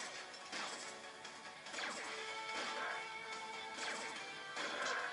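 Glass shatters repeatedly in the Angry Birds Transformers video game, bright crashing bursts of breaking panes layered over busy game music, with no talking.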